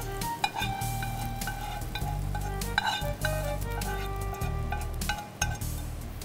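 Onions being stirred in hot oil for a baghar on a cooking show, with a steady sizzle and frying hiss under repeated scraping and clinking of a spoon against the pan, close and continuous.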